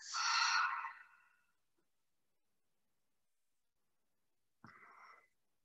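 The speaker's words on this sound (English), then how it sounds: "Deep cleansing breaths." Deep cleansing breaths during a yoga flow: one long, soft exhale that fades out, then a brief quiet breath a few seconds later, close and alone in a silent room.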